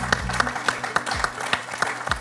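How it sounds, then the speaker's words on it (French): Studio audience on the French quiz show Questions pour un champion claps in a regular, rhythmic beat, sharp hand strikes recurring steadily over a bright musical tone. "On va applaudir encore nos 2 candidats"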